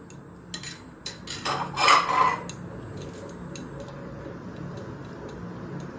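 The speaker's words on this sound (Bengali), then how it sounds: "এটা সমানে কিন্তু নাড়তে থাকতে হবে" A spoon knocks and scrapes against a pot while egg soup gravy thickened with cornflour is stirred, giving a cluster of clinks and taps in the middle and quieter background noise afterward.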